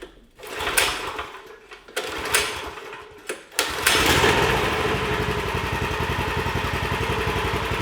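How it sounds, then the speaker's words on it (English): A 420cc Murray go kart engine running on old fuel is pulled over a few times with sputtering bursts, then catches and settles into a loud, steady close-up running drone. "We have some fuel in it that's old, but we're gonna try to fire it up."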